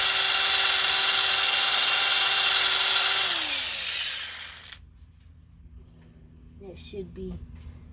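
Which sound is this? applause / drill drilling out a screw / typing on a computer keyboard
drill drilling out a screw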